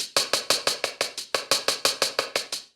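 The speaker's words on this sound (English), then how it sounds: "I've layered two hi-hat samples together here," Two layered closed hi-hat samples in a drum and bass pattern, evenly spaced strikes with a bright, sizzling top and a solid, full-bodied core, about fifteen hits in a steady eighth-note pulse.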